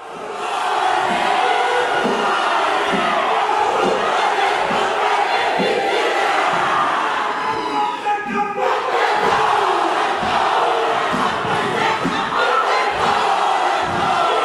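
MPs and people in the public gallery of parliament chant a haka together: a loud, rhythmic crowd chant with regular stamping thuds that continues throughout, briefly dipping midway.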